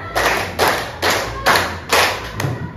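Grade 6 primary school class clapping in counted groups on a teacher's cue, five distinct bursts of many hands landing in loose unison about half a second apart, fairly close and loud.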